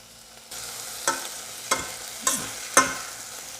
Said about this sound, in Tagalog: Gisa lang natin.